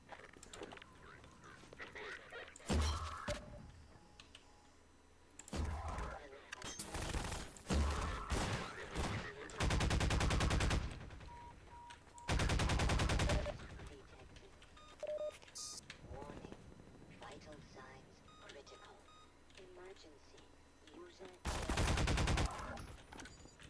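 Video game gunfire in loud, sharp bursts and rapid volleys scattered between quieter gaps, under occasional talk.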